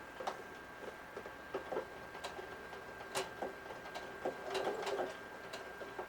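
A sewing machine stitches purse fabric, sounding as faint, uneven mechanical ticks and clicks with a thin steady whine beneath, as if it struggles to get going.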